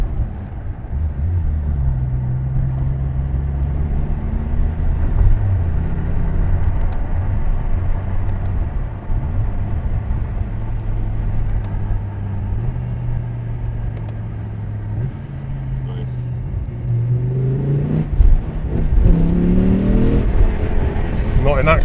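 A BMW S85 V10 engine fitted with a DCT gearbox drones loudly from inside the car, its pitch stepping up and down through gear changes, with people talking over the engine.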